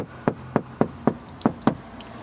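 Six evenly spaced dull knocks land on the insulated sheet-metal door of a Fiat Ducato van, close and fairly deep-toned with a muffled, damped quality and no talk.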